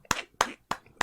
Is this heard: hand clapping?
yes